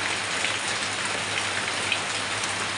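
Steady rain falls and patters on surfaces nearby, an even, unbroken hiss of drops with no voices.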